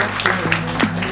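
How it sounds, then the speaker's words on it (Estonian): A crowd of wedding guests applauds Hillu at an Estonian wedding celebration, giving dense, steady clapping close by for a brief moment. "teeme aplausi Hillule, meie õhtu krooni"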